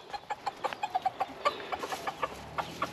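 A flock of garden chickens clucks in a rapid, uneven series of short calls, close by and moderately loud, with no talk over them.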